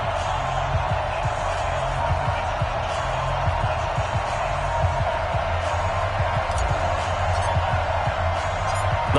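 Steady roar of a stadium crowd at an NFL video game matchup between the Carolina Panthers and Atlanta Falcons, a dense continuous murmur with scattered low thumps, loud and unbroken for the whole stretch.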